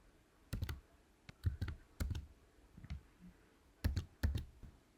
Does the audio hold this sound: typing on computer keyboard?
yes